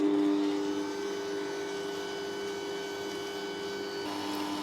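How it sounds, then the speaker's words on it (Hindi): A kitchen machine kneads pizza dough with a steady, continuous motor whir and hum, moderately loud and unchanging throughout, with no voices. "आटा मैं मशीन में गूंदने लगी हूँ।"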